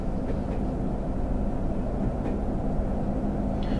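Class 101 diesel multiple unit accelerating in Train Sim 2021 on the Radstock to Frome Market line, a steady low engine drone that holds loud and even throughout, with no talk.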